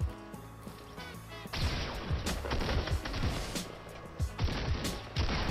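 Gunfire from a Fortnite Battle Royale match, scattered sharp shots and crashing impacts cracking out at irregular intervals over background game sounds and music, no talking.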